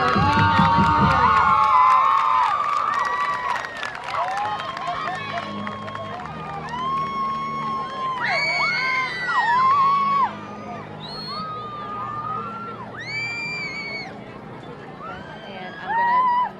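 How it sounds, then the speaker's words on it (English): Football stadium crowd at a 2017 high school homecoming game cheering and clapping for the homecoming queen, a loud sustained roar with shouts and whistles over a PA voice, fading slightly toward the end. "Ladies and gentlemen, one more round of applause for our Queen Allie Cornelius."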